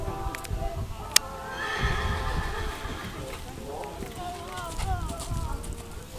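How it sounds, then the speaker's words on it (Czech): A live horse neighs loudly in a shrill, wavering whinny, with hooves clip-clopping on the ground and people chatting nearby. "Ten kůň jakože je fakt živej."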